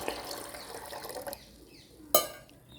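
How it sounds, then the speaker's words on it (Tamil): Water pours softly into a container for a second or so, then trickles off, followed by a brief clink of a vessel; quiet and close. "இதில் ஃபுல்லாக பச்சை தண்ணி ஊற்றியாச்சு"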